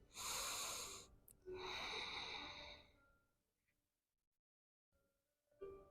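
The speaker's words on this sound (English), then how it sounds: "A few more nice deep inhales, exhales." Two long, deep breaths during a yoga session, each a strong airy rush of air, followed by quiet and the start of another breath.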